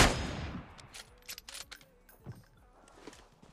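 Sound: gunfire in the video game PUBG Mobile

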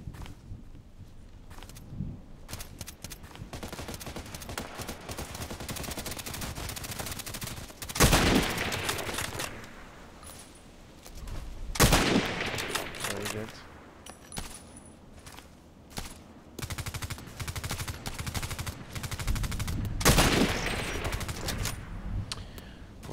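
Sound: sniper rifle gunshots in a video game

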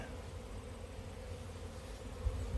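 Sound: honey bees buzzing at an apiary

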